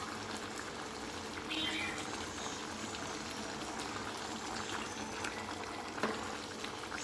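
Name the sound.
chicken gravy boiling in a pot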